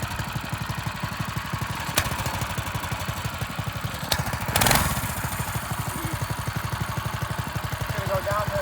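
A motorized drift trike engine running steadily with a fast, rough chugging pulse like a small mower engine, loud and continuous throughout, with a brief louder burst near the middle.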